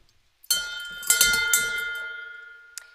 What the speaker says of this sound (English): For that, we ring the bell.